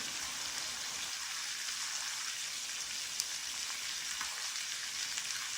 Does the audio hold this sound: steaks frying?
yes